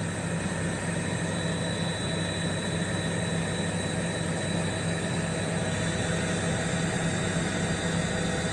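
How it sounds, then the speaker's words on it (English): Helicopter taking off outside a court, heard as a continuous loud roar of engine and rotor noise, steady and unbroken throughout with no voices. "We're seeing here the helicopter takeoff."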